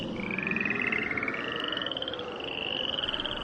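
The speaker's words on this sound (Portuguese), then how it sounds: "as rãs saíram das águas e cobriram todo o país" A dense chorus of frogs croaks and trills in fast, pulsing rhythm. The sound is steady and fairly loud, with many voices overlapping and no talking.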